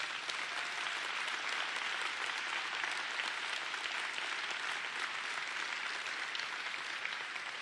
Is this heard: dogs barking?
no